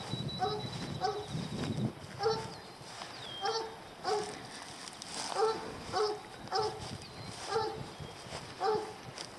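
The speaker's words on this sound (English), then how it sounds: "He sure knows how to bark" A coonhound barks repeatedly in a steady rhythm, deep baying barks at moderate distance over outdoor background noise.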